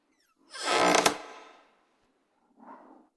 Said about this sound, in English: Bella, open the door